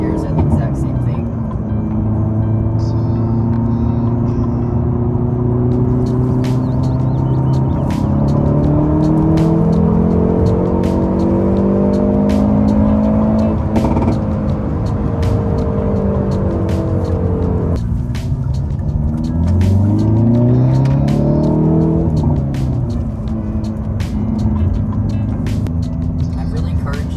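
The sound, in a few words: manual transmission car accelerating to 5,000 rpm and shifting gears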